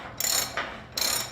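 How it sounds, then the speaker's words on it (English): A 3/4 drive ratchet turns a hex nut in two short bursts of rapid, close clicking separated by a brief pause, with no talk. "This is a 3/4 drive ratchet. We have a 3/4 drive in our hex nut."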